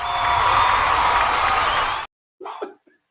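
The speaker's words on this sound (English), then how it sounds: "give the kid an applause for that" A short burst of crowd applause, steady clapping sustained for about two seconds before cutting off abruptly, followed by a brief spoken remark.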